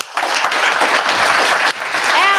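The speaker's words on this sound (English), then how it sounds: "let's give a big round of applause for" Audience applause at a live writers' event on a cool, windy night, steady dense clapping filling the whole stretch with a brief dip near the end.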